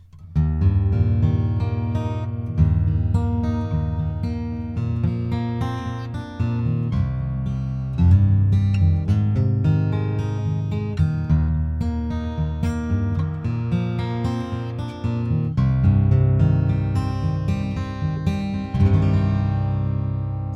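Martin Grand J-28LSE acoustic guitar tuned down to C, miked close at the neck joint, played continuously, strummed chords ringing with a boomy body tone, no voices.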